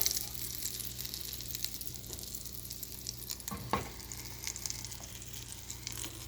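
Breakfast food fries in a pan with a steady, soft sizzle and crackle, fairly quiet, with a brief clatter midway and no talking.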